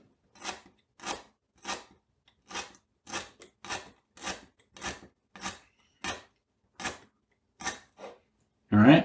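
A small paring knife trims the tip of a lemongrass stalk, making about a dozen crisp, close, evenly paced cuts with nothing else heard, then a heavier thud at the very end.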